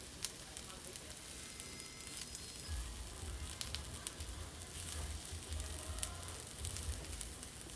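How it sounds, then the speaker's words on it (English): Thick slices of French toast sear in a hot pan, a steady soft sizzle and crackle running throughout, with a low rumble joining partway through. "You just want to put it on here and get a little sear on each side."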